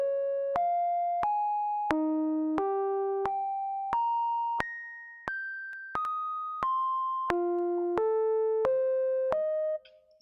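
A synthesizer in Logic Pro X plays a sequence of about fifteen short, clean electronic tones, each struck sharply and decaying, stepping up and down in pitch at a steady even pace, then cutting off.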